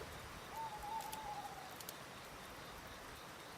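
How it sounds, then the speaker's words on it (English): Owls call in a natural setting: a faint, soft hooting note sounds once around the middle, alone over quiet, hissy outdoor ambience. "Closely monitor the sound the owls make."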